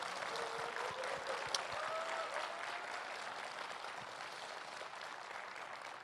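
Audience applause at a Korean political speech, a steady wash of clapping that holds evenly for several seconds, fairly distant and unbroken.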